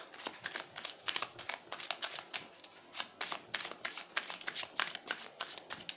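Tarot cards are shuffled and cut in quick, papery riffles and soft slaps that repeat steadily and close up, quiet overall with no talking.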